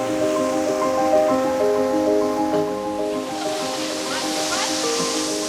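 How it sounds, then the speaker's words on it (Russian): The Great Waterfall (Veliki Slap) at Plitvice Lakes, Croatia, roars as a steady broadband wash beneath a sustained musical tone, continuous and fairly loud. "Это самый большой водопад в Хорватии. Великий Слап."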